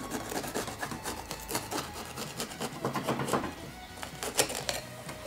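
A knife blade is pushed into and drawn around the top of a bell pepper while preparing shrimp fajitas, giving close, crisp irregular scraping and crunching cuts with quick bursts throughout.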